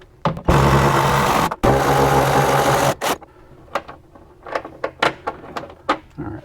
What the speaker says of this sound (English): let's go ahead and we'll take these two rear fasteners out